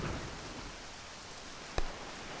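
Steady rain falls in The Legend of Zelda: The Wind Waker near Greatfish Island, a continuous even hiss with one brief sharper splash or thud partway through.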